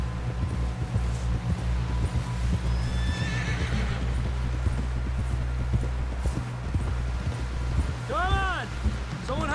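A horse in Red Dead Redemption 2 clip-clops steadily through the scene, then lets out a loud, wavering neigh near the end, with low voices murmuring under the hooves.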